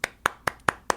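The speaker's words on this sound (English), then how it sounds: "Clapping." A single pair of hands claps five times in a steady, even rhythm. The claps are close and crisp, with quiet gaps between each one.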